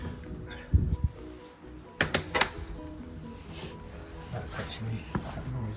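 Dropped composite front door scrapes and catches as it swings open, a few rough bursts of scraping and knocking spread over several seconds, close by, with quiet background noise between them.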